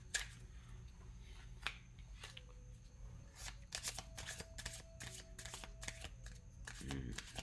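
Oracle cards are shuffled by hand in a series of quick, crisp riffles and taps, close up and fairly quiet, with a brief soft sound near the end.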